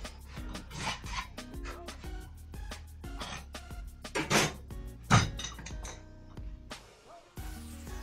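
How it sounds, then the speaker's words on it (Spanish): A metal file rasping across a metal marking gauge to smooth away cut marks, a run of quick rough strokes with scraping and a few clinks, fairly close and without speech. "y ahora le daremos un poquito con la lima para quitar las marcas del corte."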